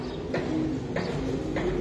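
A racing pigeon coos in low, soft, repeated phrases, close by, with a steady murmur of background noise.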